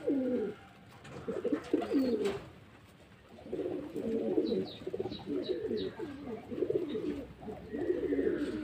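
Several domestic pigeons coo in repeated throaty phrases while eating mixed feed, close and fairly loud, with a brief dip in the middle and light pecking and rustling underneath.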